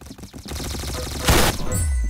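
Rapid gunfire bursts from a shooting video game rattle in quick succession, loud and close, with a brief louder blast partway through.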